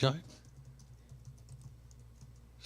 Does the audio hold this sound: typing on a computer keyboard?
yes